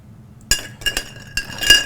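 Stirring a peach citrus mojito in a glass gives a few sharp, close clinks and taps of a spoon against the glass in quick succession, with no voices.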